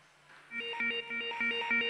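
Robotics competition match timer signal marking 30 seconds left, a repeating electronic beeping chime pattern, fairly faint and distant in an arena setting, with no talking over it.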